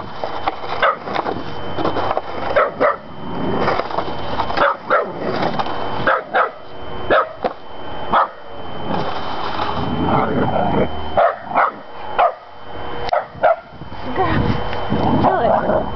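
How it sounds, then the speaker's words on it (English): A dog barks repeatedly nearby in sharp bursts in the snow, interleaved with a person talking throughout. "Got a good bark on her now."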